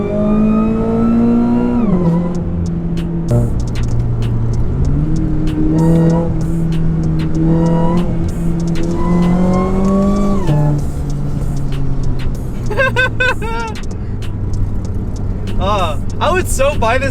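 A car fitted with a Sprintex supercharger kit and an aftermarket intake revs loudly, its pitch rising and falling through several sustained pulls. Later come quicker, sharper blips, and a voice talks over the engine throughout.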